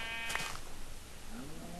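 A black sheep bleats once in Minecraft, a short, clear in-game animal call over faint background hum.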